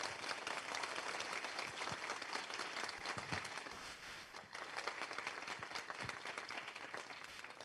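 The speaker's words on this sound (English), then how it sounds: "I want you all to give a giant round of applause to Carl Wieman." Lecture audience applauding a guest scientist, a faint, sustained patter of many hands clapping with dense irregular claps throughout, heard from a distance with a slight dip midway.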